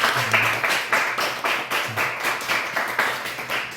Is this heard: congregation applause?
yes